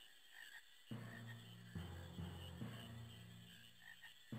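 Frogs in the Final Fantasy 9 video game croak in a repeated rhythm, with four or five deep, buzzing croaks each lasting about a second over a steady ambient game hum.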